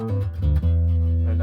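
An Epiphone EB-0 bass played through a Korg AX5B bass effects pedal with its normal, unboosted tone, giving loud, deep sustained notes that shift pitch once early on before holding a steady low drone.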